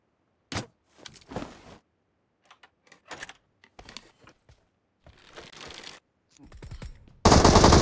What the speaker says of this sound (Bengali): গুলি তো গায়ে লাগাচ্ছে সব